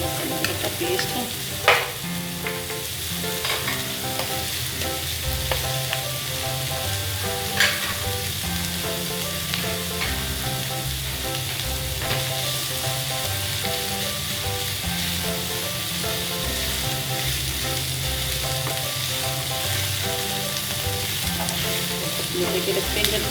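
Frying onion and garlic paste hiss and crackle in a hot pan, a sustained close sizzle broken by scattered spoon scrapes and light taps, with no voices.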